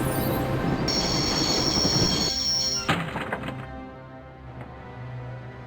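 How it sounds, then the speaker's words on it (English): A train's wheels screech loudly as it brakes in the video game Broken Sword: Shadow of the Templars, grinding and rumbling before the noise eases into a lower hum as it slows. "I always wanted to stop the train."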